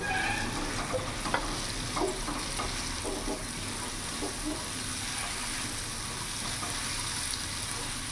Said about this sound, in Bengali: কিছুক্ষণ একটু ভাজা ভাজা করে কষিয়ে নেব।